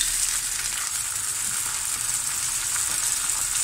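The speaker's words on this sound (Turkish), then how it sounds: "Şöyle biraz pirinci kavuruyorum. Sade olarak yağda." Plain rice toasting in oil in a pan for stuffed vine leaves, a steady close hiss of sizzling that holds even and unbroken throughout with no voices.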